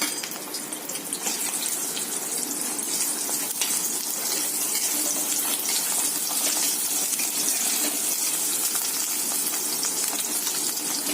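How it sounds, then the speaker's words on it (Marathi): Okra frying in a shallow layer of oil in a pan, a steady close sizzle with crackling spatter that stays even and loud throughout, with no talking. "अर्धी भेंडी घालते मी, अर्धी दुसऱ्यांदा तळूया आपण."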